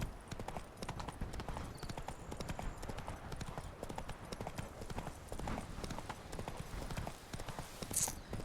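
Steady clip-clop of Roach the horse's hooves in The Witcher 3, a continuous trotting rhythm carrying on throughout at a moderate, close level with no talk over it.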